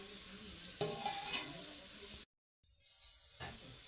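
Prawns go into a sizzling curry in a pan: a short burst of hissing frying and stirring, a sudden drop to near silence, then quieter sizzling returns.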